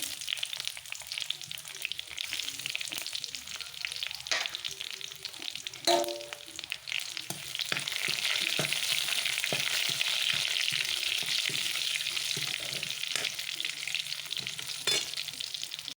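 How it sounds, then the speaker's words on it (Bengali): Panch phoron spices fry in hot oil in a wok for mung dal khichuri, a steady close sizzle running throughout, broken by scattered scraping and stirring clicks. "এখানে কড়াইয়ে তেল দিয়েছি আর এখানে দেখো পাঁচফোড়ন করে নিয়েছি এখন এটা দিয়ে দেবো"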